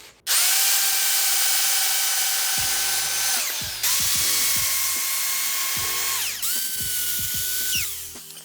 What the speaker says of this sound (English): I'm going to drill on them screws now.